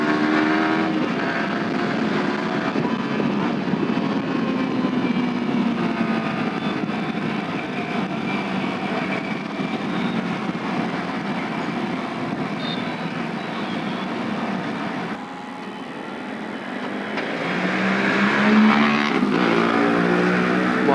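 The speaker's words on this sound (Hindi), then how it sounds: "D400 की ऐसी आवाज।" A Bajaj Dominar D400 motorcycle with an aftermarket exhaust roars steadily at close range in traffic, swelling louder near the end, with no talk over it.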